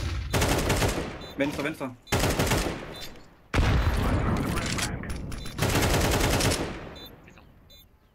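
Repeated loud gunfire in long heavy bursts, broken by short pauses, with voices speaking between the volleys.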